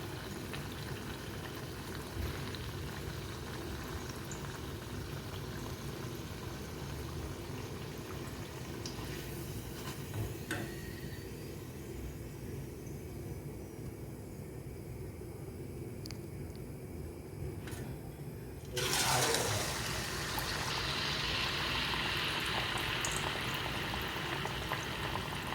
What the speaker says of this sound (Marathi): ते सर्व वडे माझे तळून झालेले आहेत ऑलमोस्ट.